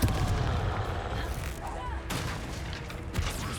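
Confringo fire spell blasting in Hogwarts Legacy, a dense rumbling barrage of explosive booms that runs continuously, with a couple of sharper bursts near the middle and end.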